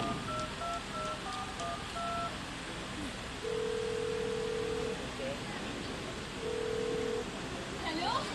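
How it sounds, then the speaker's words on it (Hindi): A telephone is dialled to call a son: short electronic beeping tones step through a number, followed by longer steady ring tones, over a background hiss and faint voices. "जरा फोन करके पूछ तो लूं"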